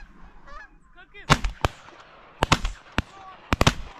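Large flock of geese honking low overhead during an opening-day duck and goose hunt at Summer Lake, Oregon, with several loud, sharp shotgun blasts in quick clusters over the calling birds.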